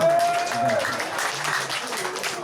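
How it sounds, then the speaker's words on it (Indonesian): An audience of minibus drivers at an Indonesian meeting in Malang applauds, a fairly soft spread of clapping with a voice briefly audible over it. "Ya, tepuk tangan."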